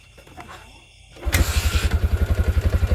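A Yamaha Jupiter MX motorcycle, which had been failing to start because of a battery that was not charging, cranks and catches after a brief quiet moment, then settles into a close, loud, evenly pulsing idle.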